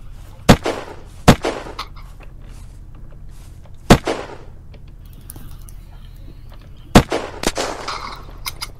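Gunfire in the Unturned video game during a PvP base raid: a handful of sharp, loud single shots spaced irregularly over a low, steady background hum, with a brief burst of quieter clatter in between.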